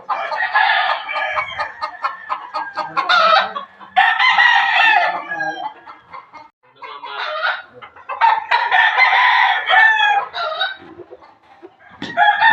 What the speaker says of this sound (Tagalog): titingnan natin yung mga manok dito sa farm